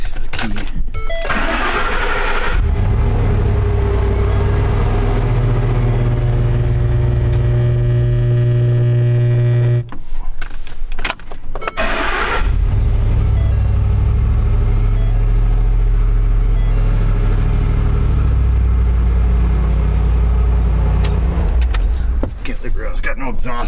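A Ford F-250 pickup with an intermittent stalling fault cranks and starts, then idles with a steady low rumble. A brief clatter interrupts the idle before the engine settles again, and voices speak near the truck.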